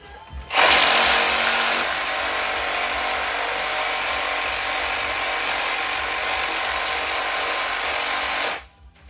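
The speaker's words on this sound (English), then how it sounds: "I once invented the Sawzall wire brush attachment." A Sawzall fitted with a wire brush attachment scrubs a motor during teardown, giving a loud, close, continuous harsh buzzing whir that starts abruptly, holds steady for about eight seconds, then cuts off.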